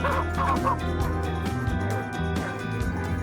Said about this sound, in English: Suddenly, barking erupted up ahead. Our dogs had clearly picked up the scent of hogs.